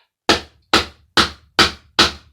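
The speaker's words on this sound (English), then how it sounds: "So we're going to have to go to the old faithful hammer." A hammer smacks a medical electrical device being broken up for scrap, five sharp, evenly spaced blows with quick decays and silence between them, close and loud.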